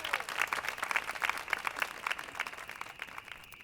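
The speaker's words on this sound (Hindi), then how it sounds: "अय्यर के लिए तालियां।" An audience at a Brotherhood Night event applauds Mr. Iyer, a steady run of close, crisp hand claps that lasts several seconds and fades slightly toward the end.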